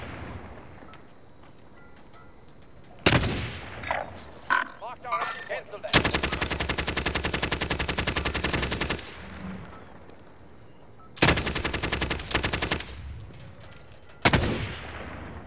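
Gunfire in the video game Call of Duty Warzone Rebirth Resurgence: several single loud shots, then long sustained automatic bursts, with shorter bursts later, close and loud, with occasional voices between.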